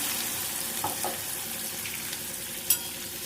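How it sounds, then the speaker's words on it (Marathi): A steady, hissing sizzle of ground spice paste frying in hot oil for pigeon pea curry, with a couple of faint clinks and a brief sharp tap near the end. "मस्त फोडणी बसली"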